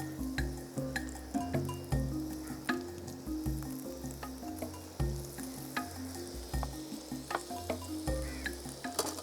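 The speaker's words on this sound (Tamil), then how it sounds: "இப்போ நம்ம ஆல்ரெடி க்ரம் பண்ணி வச்சுருக்கிற கத்திரிக்காயை வந்து ஃப்ரை பண்ண ஆரம்பிச்சிடலாம்." Breadcrumb-coated eggplant slices fry in hot oil with a steady, busy sizzle and crackle, joined by scattered clinks and light stirring. A low droning hum runs underneath, and no one speaks.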